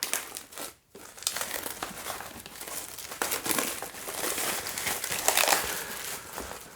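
Packaging of a brand-new 2E SoundXBlock portable speaker crinkles and rustles as it is opened, with steady crumpling and tearing noises close up, a short pause near the start, then continuous handling throughout.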